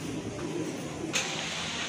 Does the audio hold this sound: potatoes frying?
no